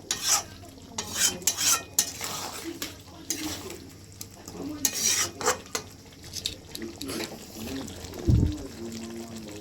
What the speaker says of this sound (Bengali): দইটা দেওয়ার পর আমি ভালো করে মিক্স করে নিচ্ছি।